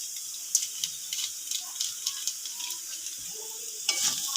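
EP masala being fried with onion, ginger and garlic for egg chowmein, a soft steady sizzle broken by sharp clicks and scrapes of a spatula stirring the pan, close by with no talking.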